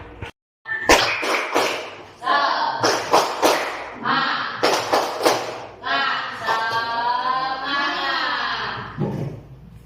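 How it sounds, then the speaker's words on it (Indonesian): Schoolchildren in a classroom perform a rhythmic clapping routine, sharp bursts of claps in patterned groups, with their voices chanting along between and over the beats. "Kita tepuk semangat."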